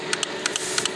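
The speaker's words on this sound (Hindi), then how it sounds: "ये भाई टिक टिक की आवाज़ आ रहा है, सेल्फ काम नहीं कर रहा है।" Faulty self-starter on a Hero Super Splendor motorcycle giving a fast series of sharp ticking clicks, about six in one second, close up over a steady background hum.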